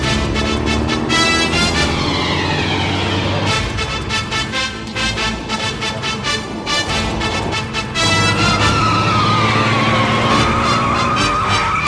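A car speeds through an action movie chase, its engine roaring loud and continuous with sweeping, squealing tones rising and falling over a dense, steady roar throughout.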